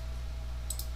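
Two quick mouse clicks in close succession in programming software, faint against a low steady hum, near the end of a short quiet stretch.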